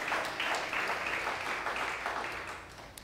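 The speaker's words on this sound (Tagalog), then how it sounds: "The best kong palakpak para kay Jesus." A church congregation applauds during a worship service, a dense, steady patter of many hands clapping that carries on for about three seconds before thinning slightly at the end.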